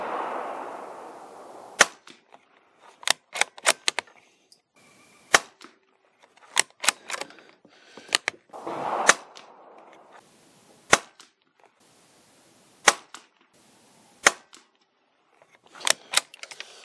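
A Bergara BMR rifle fires subsonic .22 LR rounds outdoors as a string of sharp, snappy cracks, roughly a dozen shots at irregular intervals, with faint background noise between them.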